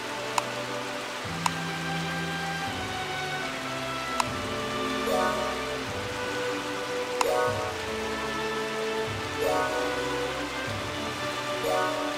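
Steady rain weather hisses continuously in the seafaring game Uncharted Waters, a dense, even patter with game music tones and occasional chimes layered over it throughout.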